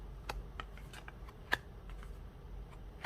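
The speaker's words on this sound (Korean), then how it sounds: "카드를 뽑아보도록 할게요" Tarot cards are shuffled and drawn for a love reading. Soft, rapid riffling and flicking sounds come close by, with two sharper snaps as cards are pulled, and no voices.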